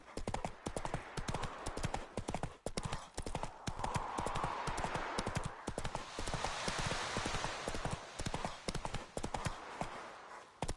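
Roach, a horse in The Witcher 3, gallops in a fast, continuous clip-clop of hooves, loud and close, sustained throughout with no pauses.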